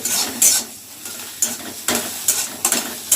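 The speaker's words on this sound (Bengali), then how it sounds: "এবার খুব তাড়াতাড়ি করে খুন্তি দিয়ে ডিমটাকে ভালো করে" Egg fried in a pan and quickly stirred with a metal spatula, with a bright sizzle and repeated scraping strokes, close and loud with no talking.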